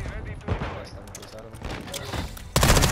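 Submachine gun fire from a first-person shooter video game match, dense rapid shots running through the whole stretch, then a louder, harsher burst near the end, with talk over the top.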